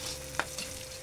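Onion and meat sautéing in a pan for dinuguan, a brief sizzle with one sharp stir click, alone and moderately loud.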